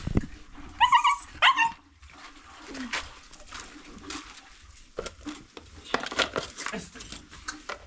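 A dog barks and whimpers in a rural village, with a quick burst of sharp, close barks early on, followed by quieter scattered noises and faint background voices.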